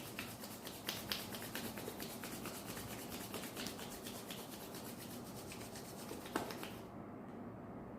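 Palms rubbed briskly together during a face yoga self-massage, a steady dry swishing friction that runs close and continuous with a few sharper brushing accents, then stops abruptly near the end.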